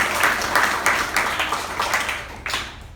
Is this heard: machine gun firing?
no